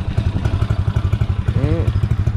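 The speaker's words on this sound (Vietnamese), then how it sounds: "mình sẽ nổ máy hai chiếc luôn cho anh em coi nha" A Suzuki Sirius fuel-injected motorcycle engine runs close by with a loud, rapid, even thumping beat, and a brief voice cuts in partway through.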